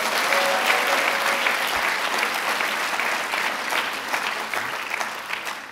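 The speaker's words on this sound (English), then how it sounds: "let's give him another big round of applause" A large crowd at a student rally applauds loudly and steadily for several seconds, the dense clapping tapering slightly toward the end.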